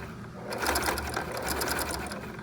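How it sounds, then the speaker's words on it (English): A sewing machine runs a zigzag stitch along a folded fabric edge for a clown Lolita costume, a close, steady rapid mechanical whirring and clicking that picks up in a short continuous burst. "right at this folded edge I'm doing a zigzag stitch, and don't forget to back stitch"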